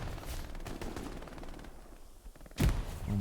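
Machine gun fire from the video game Hell Let Loose, a rapid burst of repeated shots early on, fading into ambient battle noise before a louder crack near the end.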